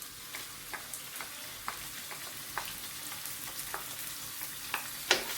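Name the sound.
sauteing paste in a pan for nasi goreng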